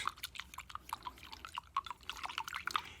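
Soapy water being stirred, with a steady run of small splashes and drips close by, no voices.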